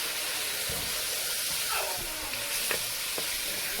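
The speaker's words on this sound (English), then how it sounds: "And then we're going to stir that up." Seasoned lamb shank mixture with adobo is stirred in a pot, giving a continuous close sizzle with a few scraping strokes of the spoon and no talk over it.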